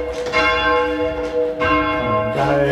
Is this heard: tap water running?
no